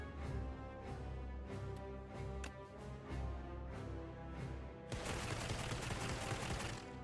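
A barrage attack fires in a video game, a steady stream of rapid repeated blasts with a sharp, denser burst of noise erupting near the end, loud and continuous throughout.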